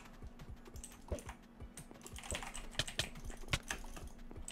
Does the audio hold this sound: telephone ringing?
no